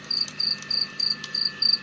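Forest ambience from a study sound app, with crickets chirping in six evenly spaced bursts over a faint, steady background hiss.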